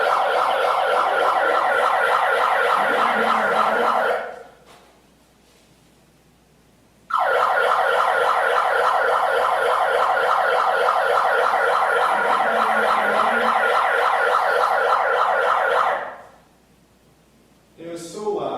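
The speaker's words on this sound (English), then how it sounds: "blare an obnoxious siren for 7 minutes" A loud wailing siren blared through a bullhorn at an outdoor street protest, sounding in two long sustained bursts of about five and nine seconds separated by a quiet gap, then starting again briefly at the end.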